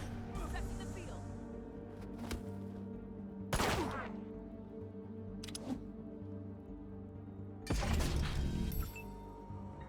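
Pistol shots from the Wasteland 3 video game: a few sharp, loud impulsive cracks at spaced intervals stand out over a steady background score, with some mechanical clatter between them.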